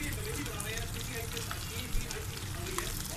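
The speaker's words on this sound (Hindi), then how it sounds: "अब हम इसे 15 मिनट के लिए हल्की आंच पर पकाएंगे और साथ साथ चम्मच चलाते रहना है।" Homemade hair oil with fenugreek seeds and ginger cooks over a low flame while a spoon stirs it, giving a soft continuous sizzle with light scraping and a small clink near the middle.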